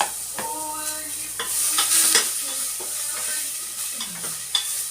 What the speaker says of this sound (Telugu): ఇంకా నూనె ఏం పొయ్యక్కర్లేదండి, అదే నూనెలో వేయించుకోవాలండి.